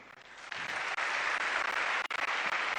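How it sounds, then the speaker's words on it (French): An audience at a ceremony honouring the First Lady, with scholarship students present, applauds in a dense, sustained burst of clapping that stays loud throughout with only a couple of brief dips. "Distinguée Première Dame, chère maman des boursiers, trouvez par ces applaudissements nos remerciements."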